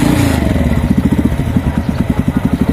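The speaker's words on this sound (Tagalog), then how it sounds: "pag hindi natin itulak ang motor, mamamatay po siya" A motorcycle with a snapped clutch cable chugs unevenly, its engine close and loud with rapid rhythmic firing pulses that sputter and falter as it nears stalling.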